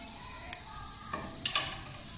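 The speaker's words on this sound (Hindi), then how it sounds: "ऑयल में हम सबसे पहले ज़ीरा डाल लेंगे" Cumin seeds sizzling in hot oil at the start of an egg curry, a soft steady crackle with a few brief pops and light stirring clicks.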